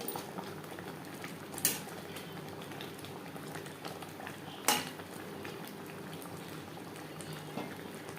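A green mango and jaggery pickle bubbles steadily as it boils in a pan, with two sharp metallic clanks of a utensil against the pan standing out above the soft simmer.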